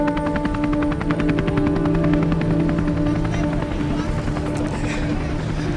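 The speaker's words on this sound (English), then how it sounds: "So they've got a chopper there" Helicopter rotor thumping steadily with a droning engine hum, loud and close, continuous throughout, near a site with two forklifts.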